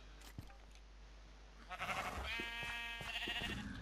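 Sheep in the video game Terrariacraft give a couple of clear, nasal bleats that stand out against quiet background after a soft click near the start.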